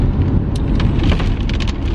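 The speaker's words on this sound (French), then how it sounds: "il pleut en plus" Steady rain falling outdoors, a dense continuous patter with soft scattered drop hits, fairly close and even throughout, no voices.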